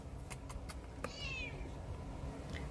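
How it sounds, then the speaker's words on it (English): A pet cat meows indoors, a few short chirpy calls followed by one longer, rising meow near the middle, fairly close over a quiet background. "Here's my little kitty cat."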